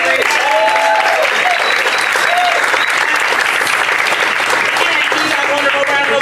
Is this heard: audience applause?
yes